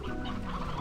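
Chickens cluck softly in the Slime Rancher video game, a brief, low, muffled burst of clucking under a faint background hum.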